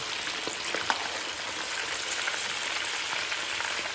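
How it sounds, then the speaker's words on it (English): Lobster and king prawns fry in hot oil that spits and crackles steadily, a dense, even sizzle with scattered sharp pops and no voices. "You're going to have the oil spitting at you."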